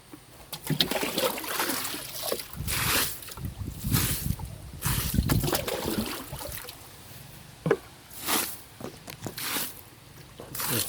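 Water pumped up into a durian orchard behind the Phu Phan hills, splashing and gurgling in uneven bursts with scattered sharp splats, close by and fairly loud, no talk.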